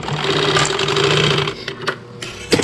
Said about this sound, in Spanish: aquí tiro una sobre costura